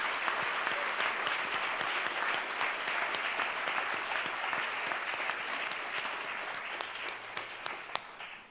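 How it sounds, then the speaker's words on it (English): A conference audience applauds an organising team in a hall, with dense, steady clapping that carries through the whole stretch and fades slightly toward the end. "please join me in applauding them for their wonderful work"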